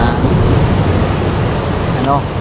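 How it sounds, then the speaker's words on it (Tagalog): Very strong sea waves breaking on a camping shore, a dense continuous wash of surf with wind buffeting the microphone, loud and close. "napakalakas na alon"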